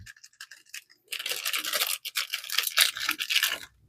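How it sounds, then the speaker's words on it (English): An HP 67 ink cartridge is shaken before opening, producing a few light scratchy taps and then a busy, rapid rattling rustle close to the listener. "You can shake it before you open it."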